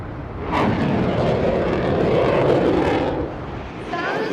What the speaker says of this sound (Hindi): F-16 फाइटर के साथ कई स्ट्रेटेजिक विमान गरज कर अपनी ताकत दिखा रहे हैं